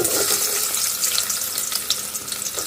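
Chopped onions for a prawn and taro curry sizzle and crackle in hot oil in a pan, a steady, close frying hiss that runs throughout.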